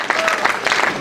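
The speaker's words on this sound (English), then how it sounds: "A round of applause for all of you, ladies and gentlemen." Brief burst of audience applause at a community convention, dense, loud clapping from a crowd lasting about a second.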